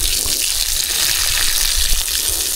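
Water pours steadily onto plants, a close, loud, continuous gushing splash that runs without a break for the whole stretch, with no talking.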